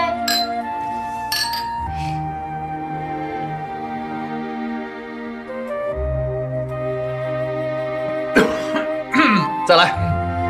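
Glasses of a traditional famous liquor clink together in a toast, a few bright chinks bunched near the end over steady background music.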